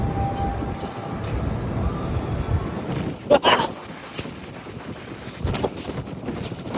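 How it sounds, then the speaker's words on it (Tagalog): Strong, steady wind on the deck 11 of the cruise ship Voyager of the Seas roars across the microphone throughout, with low rumbling and occasional gusty bursts; no clear speech. "Lakas ng hangin pala guys dito."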